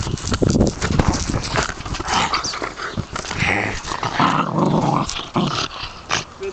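An Irish terrier growling in bursts up close, with scuffling and clattering noises mixed in throughout.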